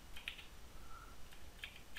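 Light computer keyboard typing in quiet bursts of a few quick keystrokes separated by short pauses, faint and close.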